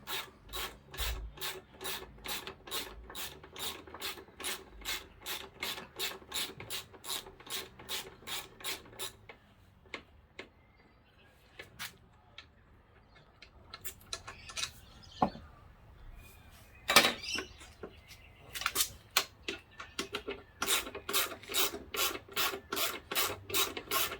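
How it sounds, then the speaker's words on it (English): Wrench working the top and bottom brake caliper bolts on a Honda CBR500, a steady run of rapid ratcheting clicks, a pause with scattered knocks and scrapes, then more fast clicking, close and fairly loud with no talk. "I'm going to remove these two bolts here"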